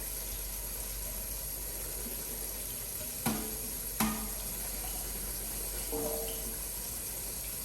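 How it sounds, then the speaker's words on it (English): Canned chickpeas are rinsed under a running kitchen tap, a steady, even rush of water with a few brief clunks and knocks from the can or colander partway through. "Just like the rice, we're just going to go ahead and rinse them up."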